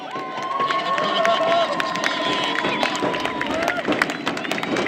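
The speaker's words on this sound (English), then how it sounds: "Crowd getting behind Long Beach State here with their first corner of the game." Home supporters at a college soccer match between Long Beach State and UCLA cheer and clap steadily, a broad sustained crowd roar that swells and holds as a corner kick is set up, with scattered whistles and voices in the stands.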